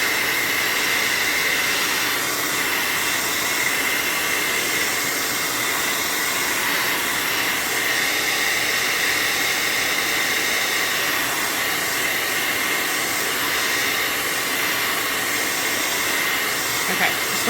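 A hair dryer blows steadily on wet black furniture paint. The airflow is a loud, continuous hiss and whine that runs nearly unchanged for the whole stretch, close to the listener.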